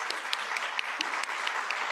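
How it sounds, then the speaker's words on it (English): A conference audience gives the organizers a round of applause, even, sustained clapping from many people with crisp individual hand claps standing out, heard without any talk. "join me in thanking the team that put all this together with a big round of applause"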